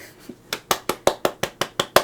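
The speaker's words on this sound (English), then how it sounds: "And clapping." Clapping from a lone person during a live art stream, about ten crisp separate claps in a steady rhythm, close and fairly quiet, with no talk over them.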